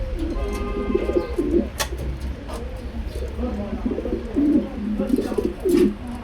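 Pigeons at a pigeon farm stocked with Lahore, Sherazi and racer breeds coo repeatedly in soft, throaty bursts, fairly close, over a steady low background hum, with a few brief clicks and rustles between calls.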